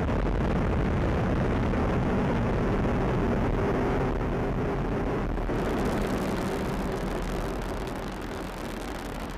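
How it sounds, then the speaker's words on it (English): Atlas V rocket from United Launch Alliance lifting off on the AEHF-4 mission for the US Air Force, a continuous loud broadband roar and crackle that stays dense throughout and eases slightly near the end, with no talk. "liftoff of the AEHF-4 mission carried by United Launch Alliance Atlas V rocket for the United States Air Force"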